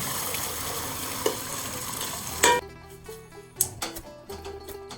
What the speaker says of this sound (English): We're gonna deglaze this until the wine goes halfway, and then we're gonna add a little cream to it.